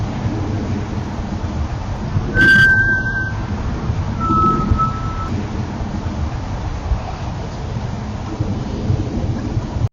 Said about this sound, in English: That same whispered plea and eerie whistle.